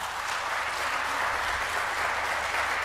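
An audience at a political debate claps steadily, a continuous patter of applause from a moderately distant crowd with no voices standing out.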